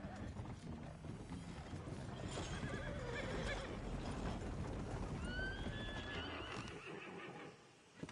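Horse hooves clip-clopping steadily with a whinny, alongside creaking mechanical sounds, in a busy scene in the video game Red Dead Redemption 2.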